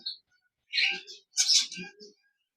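Two short bursts of bright parrot chirps and squawks in an aviary, close by and separated by brief silences.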